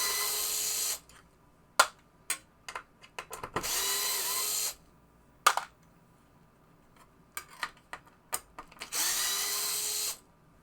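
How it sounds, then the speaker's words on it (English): A Harbor Freight bench polisher works a playfield part from a 1975 Williams Little Chief pinball machine. Loud whirring runs of a second or so come with scattered clicks and clunks between them, heard close up. "It's like a bench grinder, but it's a polisher."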